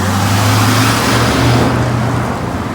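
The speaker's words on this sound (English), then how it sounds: "traffic is coming around the corner" Road traffic on a rural town road near a proposed development site, a steady broadband vehicle rumble with a low engine hum, moderately loud and continuous, easing slightly toward the end.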